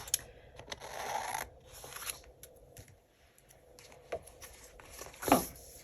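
Scissors cut paper for a pink Christmas planner spread, giving quiet irregular snips and rustles close by, with a sharper crisp cut near the end.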